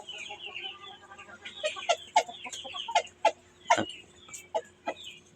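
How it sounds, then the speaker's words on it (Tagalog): Rhode Island Red hens clucking in a free-range yard, a run of short, repeated clucks and squawks at close range with one louder call near the end, over steady background noise. "Yan ang manok natin na Rhode Island."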